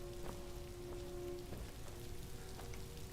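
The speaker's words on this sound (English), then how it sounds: "Rain? In Skyrim?" Rain falls steadily in the video game Skyrim, a constant patter on surfaces with a few sharper drops, accompanied by faint tonal game sounds.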